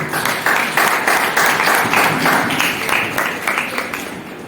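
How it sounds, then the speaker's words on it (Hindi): A church congregation in Ulhasnagar claps together in a steady, rhythmic beat, loud and close, sustained throughout without talk over it. "तालियां बजाओ"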